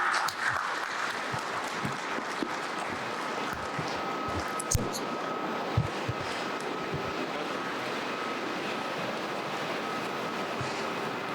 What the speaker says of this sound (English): Let's have a big round of applause for Shri Kumaraswamy ji